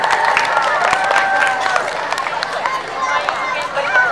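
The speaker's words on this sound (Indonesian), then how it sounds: "Kita tepuk tangan dulu untuk juara kedua kita." Crowd at an evening prize-giving ceremony claps and cheers for the second-place winner, a lively mix of applause and chatter with voices and babble running through it.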